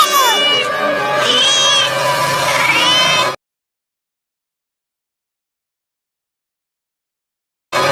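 A cat yowls loudly in drawn-out, wavering cries for about three seconds, then silence follows before a brief burst at the very end.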